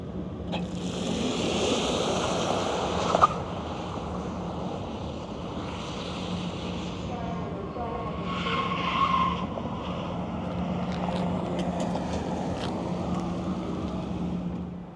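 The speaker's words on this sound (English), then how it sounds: "let's turn this Volvo on and see it zoom off" A 2025 Volvo EX90 electric luxury SUV setting off, heard as a steady broad whoosh of rolling tyres and road noise that swells and fades slightly over about fifteen seconds, with a brief knock near the start and no voices.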